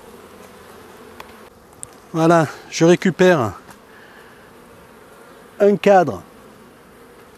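Honeybees buzz around an opened hive frame as a beekeeper works the hive, with a low steady hum underneath and someone speaking French in short bursts over it.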